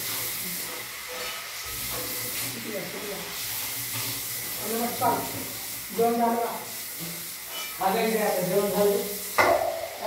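Poha and peanuts dry-roasting in a pan at home, giving a steady hissing, steamy sizzle with occasional scraping stirs, heard throughout beneath a person talking.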